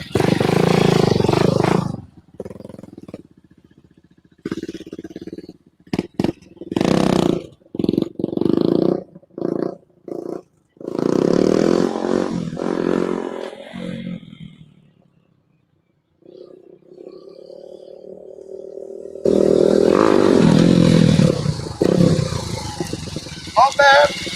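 A motorcycle without a handbrake revs hard during wheelie attempts at a stunt spot, loud close bursts of engine roar broken by short gaps, with talk between and a sustained run near the end.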